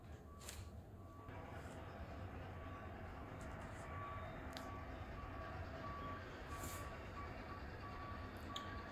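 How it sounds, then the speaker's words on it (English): Road work vehicles outside a house sound faint, regularly spaced reversing beeps over a steady low truck engine rumble, heard from a distance indoors with occasional clicks and knocks nearby. "they're doing road work right outside my house"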